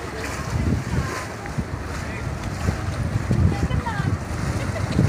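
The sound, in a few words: wooden passenger boat docking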